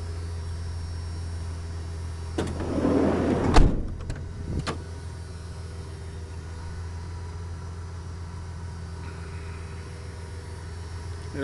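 The power window motor of a 1994 Ford E150 cargo van with a six-cylinder engine whirs for about a second, ends in a couple of clicks, and then goes quiet over a low steady hum.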